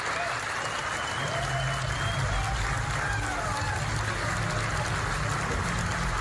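Dense, steady applause fills a hall as an audience gives five Metro Nashville police officers a standing ovation in the nation's capital, a continuous loud wash of clapping that holds for the whole stretch.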